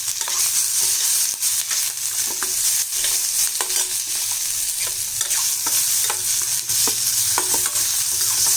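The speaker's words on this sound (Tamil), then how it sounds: "இந்த வெங்காயம் தக்காளியெல்லாம் நல்லா வதங்கிடுச்சு" Onion, tomato and cumin sautéing in a pan for urad dal chutney, a loud, dense, constant sizzle with regular spatula scrapes and stirring knocks, close by and without talk.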